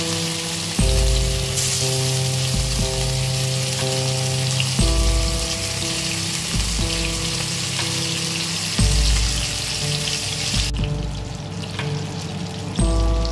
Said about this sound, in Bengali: আমি সেই তেলের মধ্যেই মাছগুলোকে এবার হালকা করে ভেজে নেব।